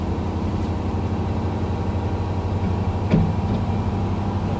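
An empty semi truck's engine drones low and steady under load climbing a hill, a constant rumbling hum heard from inside the cab near 2050 RPM, with a brief knock partway through.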